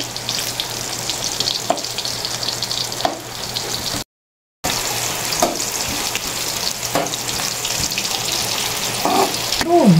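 Garlic and onion sizzle steadily in a hot pan for a Filipino dish, a continuous close frying hiss with occasional stirring clinks, briefly cut by a short silent gap.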